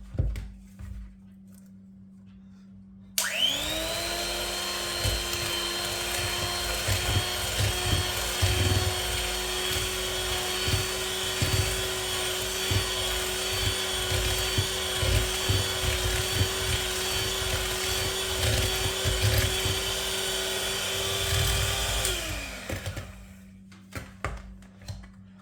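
An electric mixer whirs steadily for about twenty seconds through chocolate chip cookie dough, a loud, even motor whine that switches on abruptly and winds down near the end, with faint background hum.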